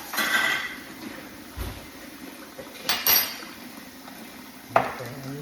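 Spoons and dishes being handled in a home kitchen while making peach cobbler, with scattered clinks and knocks of metal and crockery spaced over a quiet background.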